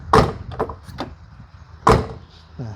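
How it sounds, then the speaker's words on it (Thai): Doors on a used Mitsubishi Strada 2.8 four-door pickup swinging shut, two solid, close-up thuds about two seconds apart, followed by a brief faint voice. "นี่ประตูปิดนิ่มทุกบานนะ"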